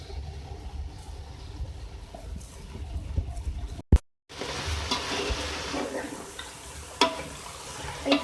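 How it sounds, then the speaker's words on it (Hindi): Rice tips into a hot pot with beef and chana dal and fries with a steady sizzle and stirring scrapes, broken by a brief loud clatter and a moment of silence before the frying resumes louder. "तो आप पहले भून लें। राइस जो थे वो डाल रही हूँ।"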